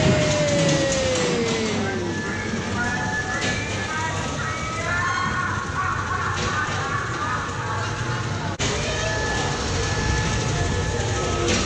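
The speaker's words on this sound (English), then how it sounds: "it looks like we're coming up to the ghost train now" A ghost train ride at Blackpool Pleasure Beach runs along its rails with a continuous rumbling clatter and squeal, steady and close throughout, with people talking nearby.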